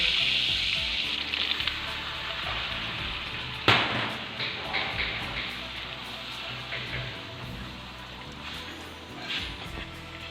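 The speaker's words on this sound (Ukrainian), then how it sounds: "Розтоплюю решту вершкового масла і пасирую борошно." Butter melts and flour is sautéed and stirred in a pan for a sour cream sauce, with a broad steady sizzle, one sharp knock near the middle and light stirring scrapes, gradually easing and heard up close.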